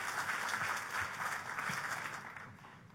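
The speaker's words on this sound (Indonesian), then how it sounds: "Tepuk tangannya boleh yang paling meriah buat Tuhan kita." A church congregation claps together in a dense, steady wash of applause that fades slightly toward the end, heard from across the room without voices.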